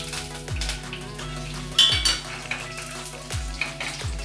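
Mustard seeds, cumin, chopped garlic and curry leaves fry and sizzle in hot oil for a drumstick sambar tempering, with steady crackling punctuated by several sharp spatters and a few clinks of a spoon against the pan.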